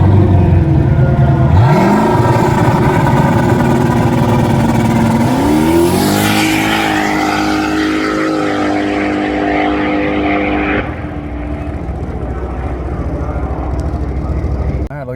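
A 1996 Camaro with a turbocharged 5.3 swap makes a drag pass, its engine roaring loud and close with a rising whine through gear changes. The tone drops suddenly near the end as boost falls away, leaving a steady engine drone.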